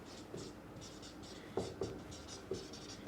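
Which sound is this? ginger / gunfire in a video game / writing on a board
writing on a board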